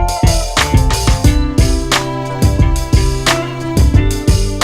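Hook section of a sample-based music track plays loud and alone, built on a steady pattern of punchy drum hits under sustained, layered harmonic tones with no voices.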